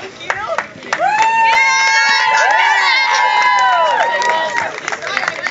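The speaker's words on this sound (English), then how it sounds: "Clap for Lisa" A crowd at a high school decimals competition claps and cheers loudly for a senior, with shrill shouts and whoops rising over dense clapping, while a voice speaks near the start and end.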